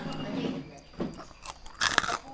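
Crispy pork rind is bitten and crunched near the mouth, giving several sharp crackly crunches with chewing between them and a louder burst of crunching toward the end, with faint background noise from a noodle shop.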